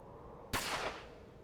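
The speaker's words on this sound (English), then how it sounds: "A gunshot tore through the dark night" A single gunshot sound effect from the Chaos;Head Noah visual novel: one sharp crack with a short, fading boom after it, heard over a low, steady background hum.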